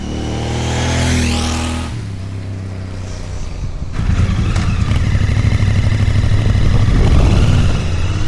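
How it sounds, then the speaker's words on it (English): A Royal Enfield Bear 650 motorcycle engine with a 2-into-1 exhaust revs up loudly, drops back, then settles into a strong, throaty steady roar up close. "what a lovely tone from that 2-into-1 exhaust"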